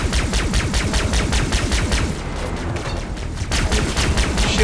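Sustained gunfire in the game Far Cry 3: Blood Dragon, fast repeated shots with a brief lull in the middle before the firing picks up again, loud and close.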